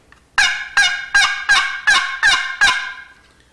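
Seven loud, close two-tone yelps of a wild turkey hen call, evenly spaced and each slightly raspy, standing alone without any voices.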